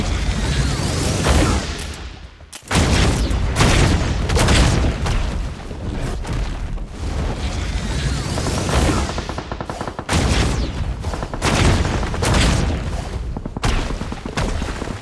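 Rapid gunfire and explosions in a PUBG battle with a Naruto nine-tails crossover, dense bursts of automatic shots and booms, loud and nearly continuous with brief lulls.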